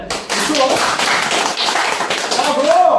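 Audience clapping at a talk on health breaks out in uneven, fairly loud bursts with some thumpy taps, mixed with scattered voices and crowd noise.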